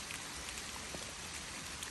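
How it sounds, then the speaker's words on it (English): Steady rain falling in a garden, a continuous hiss of drops pattering on surfaces with faint scattered taps, even and close throughout. "it's just started raining again."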